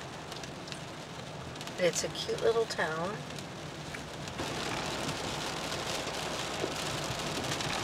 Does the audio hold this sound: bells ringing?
no